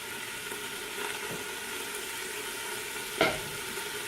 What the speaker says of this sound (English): The cabbage is still cooking